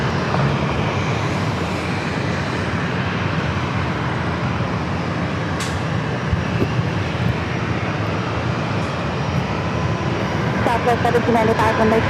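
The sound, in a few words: Southwest Airlines Boeing 737-800 airplane at San Diego airport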